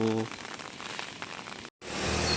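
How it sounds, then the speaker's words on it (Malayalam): Heavy rain pours steadily as a dense, even hiss during a rainy fishing outing, close to the microphone, with a brief cut before it resumes just as strongly. "നല്ല മഴയുണ്ട്"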